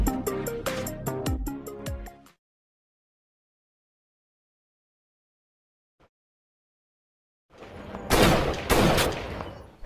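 In a film scene where a boy practises shooting with his grandfather, a loud, close burst of rapid gunfire erupts near the end, following a stretch of music and then near silence.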